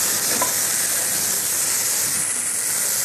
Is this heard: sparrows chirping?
no